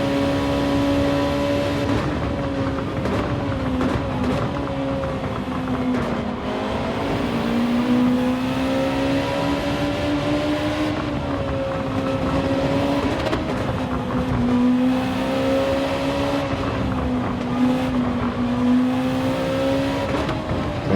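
Gran Turismo 7 race cars run at full pace, a loud, continuous engine drone with shifting pitch and several cars close together. No voices are heard.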